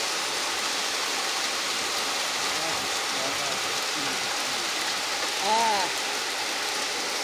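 Heavy rain pours down in a flooding downpour during a squall, a dense, steady hiss, with a brief faint tonal sound rising near the end.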